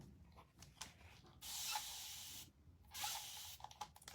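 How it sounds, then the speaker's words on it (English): Two bursts of hissing spray of distilled water from a trigger bottle, each about a second long, with light handling clicks around them. "spray some water on there."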